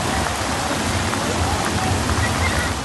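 Heavy rain pouring down on Feni during record rainfall, a loud, dense, unbroken roar of water hitting surfaces, close and constant throughout.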